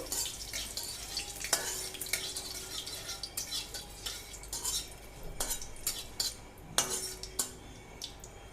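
Panch phoron spices and a bay leaf stirred in hot oil in a pan for tomato and date chutney, with a soft sizzle under intermittent close clinks and scrapes of a utensil against the pan.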